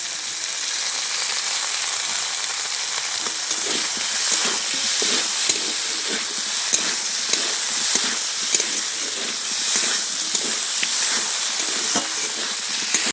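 Kuche fish sautés in a pan with tomato sauce, giving a loud, continuous close sizzle and hiss broken by frequent small stirring scrapes.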